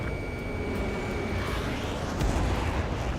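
A missile strike on an anti-air radar vehicle in the Ace Combat 7 combat flight game: a dense, continuous explosive roar with a steady jet-engine drone underneath, swelling slightly near the end, with no voices.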